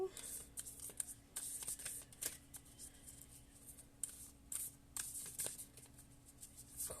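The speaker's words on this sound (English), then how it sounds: "I'm going to shuffle one more time and then we're going to pull some cards" Soft, faint tarot card shuffling: quiet riffling and slapping bursts repeat irregularly over low background hum.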